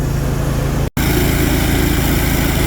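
Grain auger loading grain into a T6 on a farm, a steady loud engine drone close by with a brief cut near the start, no voices.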